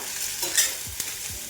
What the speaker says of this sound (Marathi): कांदा थोडंसं परतून घ्यायचं आपल्याला